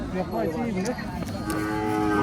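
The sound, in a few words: seven-month-old cow mooing at a cattle market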